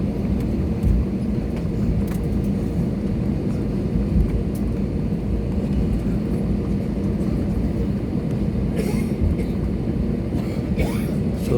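A passenger jet taking off from Kolkata Dum Dum Airport, heard from inside the cabin as a loud, steady engine roar with rushing rumble that holds throughout, with faint voices at times.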